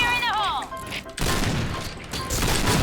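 An explosion in a first-person shooter game, a sudden loud crashing burst cutting in after a stretch of game noise and sustained briefly, with someone talking excitedly over it.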